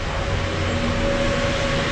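Buses rumble through Yeovil town centre in a loud, close, continuous engine drone with a steady whine, filling the street with no talking.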